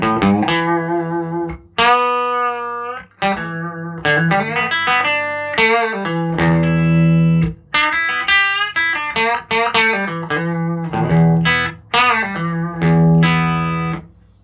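Electric guitar played through a Mimic stereo effects pedal, heard as sustained chords and picked phrases with a touch of room reverb, loud and close, ringing notes separated by short pauses.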